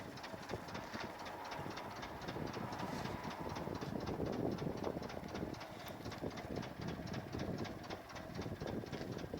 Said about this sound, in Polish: Także Ursusem się fajnie jeździ. Już taką prędkością.